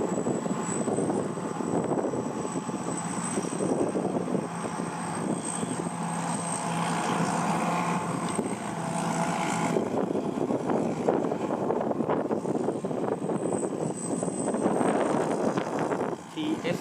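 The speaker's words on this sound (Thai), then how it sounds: "ไทยเสงยนต์การเกษตรครับผมดูเกี่ยวข้าวล้มครับ" A Thai Seng (TSY) combine harvester works through lodged, flattened rice, its engine giving a steady, loud, continuous drone with mechanical rattling and a whine throughout, and a voice talking over it at times.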